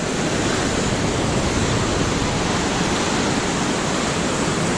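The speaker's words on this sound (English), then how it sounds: "Raging waters" Raging river rapids in Lucerne roar in a constant, dense, loud wash of rushing water that fills the whole few seconds without pause or voices.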